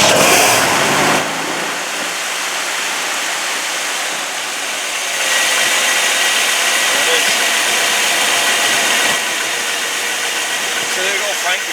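A 1965 Oldsmobile Cutlass engine runs steadily at close range, a broad continuous roar with a slight rise in level partway through, holding a constant idle-like tone for the whole stretch.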